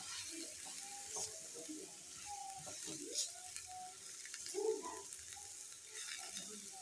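Potato paratha filling is stirred and cooked in a pan over low to medium heat, giving a quiet, steady sizzle with soft scraping and occasional light clinks throughout.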